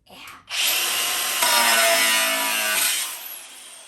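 Loud, steady high-pitched whine of a Milwaukee M18 cordless angle grinder cutting through material, starting abruptly and running continuously for a few seconds before tapering off.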